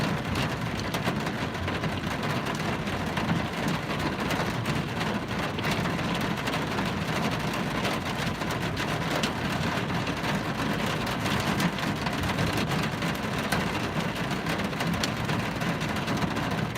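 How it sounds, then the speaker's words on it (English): Hail pelting the roof of a car during a Northeast Tennessee supercell, a steady dense patter of hits mixed with rain, close and continuous throughout with no one talking. "There it is. It's hailing."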